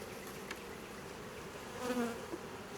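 A steady, low hum of many honeybees buzzing close by at an open hive, with a slightly louder swell near the end and no voices.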